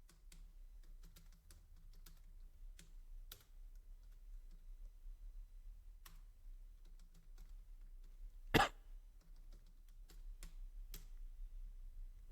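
Computer keyboard clacking as code is typed, quiet and steady in irregular bursts of keystrokes with one sharper, louder knock partway through.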